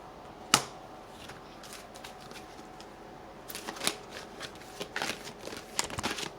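Tarot cards shuffled and flicked down onto a table, with one sharp snap at the start followed by a quiet pause, then a run of quick riffling slaps and taps, close and soft, no talking.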